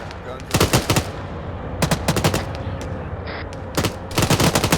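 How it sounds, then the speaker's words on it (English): Bursts of automatic gunfire during a multi-day military simulation exercise, several rapid volleys in clusters with short pauses between, loud and close, with a brief voice in between. "taking direct fire."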